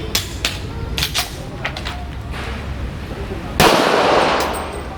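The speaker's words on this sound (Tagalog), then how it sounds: "tatlong putok para ma-check natin yung kanyang actual chrono" A .40 caliber pistol fires at a shooting range during a chronograph check, a few sharp cracks heard close, with a voice talking around them.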